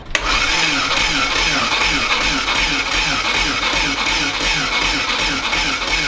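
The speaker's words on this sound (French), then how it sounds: "Ça suffira pour mettre des coups de démarreur." Starter motor cranking a Subaru engine swapped into a Volkswagen T3 van, powered by a small new battery: a loud, close, continuous churning drone with a fast, even rhythm throughout, no talking.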